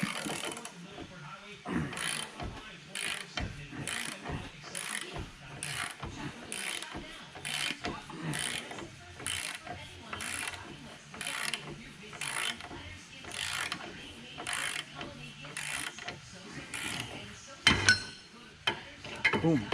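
A ball joint press is ratcheted on a 2011 Ford F350 to push out a ball joint, with evenly spaced mechanical ratchet clicks repeating about once a second for a long stretch, fairly faint and close.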